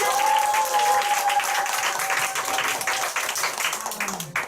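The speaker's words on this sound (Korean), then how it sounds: "우리 남현재 사장님께 감사의 박수 부탁드립니다" A crowd applauds loudly and steadily, dense clapping throughout with a faint sustained tone in the background at the start.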